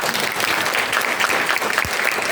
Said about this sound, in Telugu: సంతోషంగా ఉన్నవారు అందరూ ఒకసారి చప్పట్లు కొట్టండి